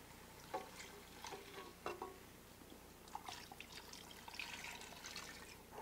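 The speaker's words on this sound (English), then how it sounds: "can go in with your beef stock" Beef stock poured into a pan over a flour-coated mix of onions and mushrooms, heard as quiet, close liquid trickling and dripping with scattered splashes.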